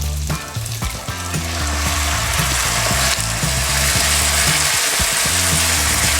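Pasta sauce hits a hot pan of beef and bursts into a loud, steady sizzle that lasts throughout with no talking.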